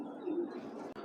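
Racing pigeons, a male and a female, give a soft, low cooing murmur, faint and continuous against a quiet background.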